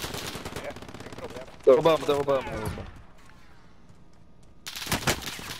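Gunfire in Call of Duty: Modern Warfare, a burst of shots mid-clip among game noise, with players talking over it throughout.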